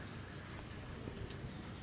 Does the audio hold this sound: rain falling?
yes